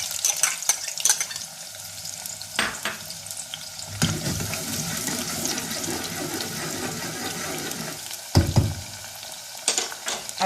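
Two medium sliced onions frying in hot oil while browning, for aloo gosht, make a steady crackling sizzle, broken now and then by louder bursts of stirring and scraping; there is no talk.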